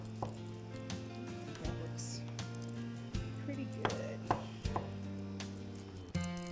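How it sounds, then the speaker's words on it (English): A knife roughly chopping a few green olives on a board, a series of soft irregular knocks under a steady low kitchen hum. "I've got a few green olives and I wanna give them just kind of a little bit of a rough chop."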